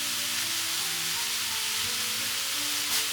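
Mushrooms stir-fry over high heat in a steady, close, loud sizzle that holds without a break, with no voices.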